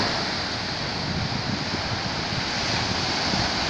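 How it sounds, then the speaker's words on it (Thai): Sea waves at Jomtien beach in Pattaya, a steady broad wash of surf with wind rushing across the microphone, continuous and fairly loud with no voices. "คือ ทะเล หาด"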